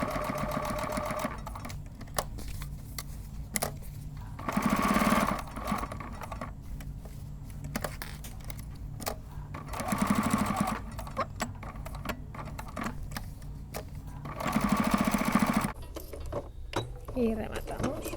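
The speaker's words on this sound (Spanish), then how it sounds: "esto lo coges y lo vamos a coser, igual que hemos hecho antes" A sewing machine stitches fabric for a bottle holder, running in steady mechanical whirring stretches with louder bursts of fast stitching roughly every five seconds and quieter clicking and handling in between.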